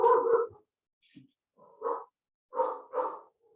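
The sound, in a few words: dog barking in background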